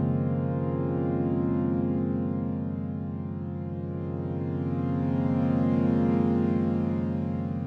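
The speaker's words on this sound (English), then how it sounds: "next thing I did is a very simple melodic pad without any effects." A smooth Ableton wavetable synth pad with no effects holds soft sustained chords, dry and even, with a mellow tone that swells slightly toward the end.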